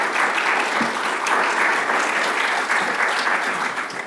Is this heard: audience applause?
yes